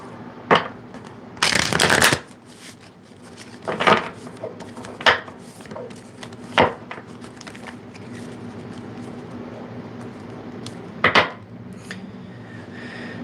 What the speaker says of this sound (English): let me shuffle these cards again